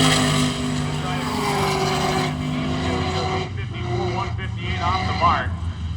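Turbocharged Ford cars and a turbocharged Ford truck make a drag race run at Hot Rod Drag Week. Loud engine roar with rising and falling whine sweeps past, mixed with crowd and track noise.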